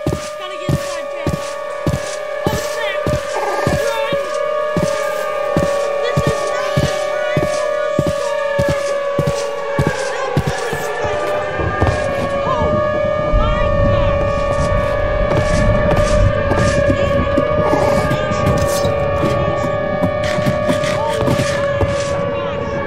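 Video-game storm with warning sirens: several overlapping wailing siren tones hold and bend over a regular pulsing thump, with deep rumbling growing beneath them in the later half.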